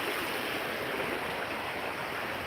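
Cold spring-fed stream flowing briskly through northern Michigan woods, a steady, close rushing and babbling wash of water with no pauses and no voices.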